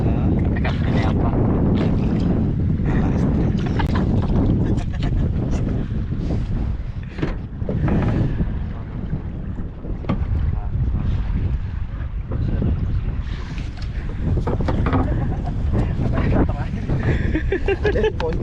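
Strong gusty wind buffets a fishing boat at sea, a loud, steady roar with heavy microphone rumble throughout, while people talk over it.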